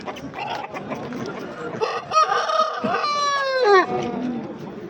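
Roosters crow and hens cluck at a busy poultry market, with several long crowing calls overlapping in the second half over a steady crowd murmur and occasional voices.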